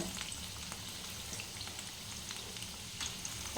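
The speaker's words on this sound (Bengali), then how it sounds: "এই যে এইভাবে ভেজে নিতে হবে দুটিটাই খুব ভালোভাবে পাল্টাতে হবে" Spinach pakoras deep frying in oil over medium heat, a soft, even bubbling sizzle that continues throughout at low volume.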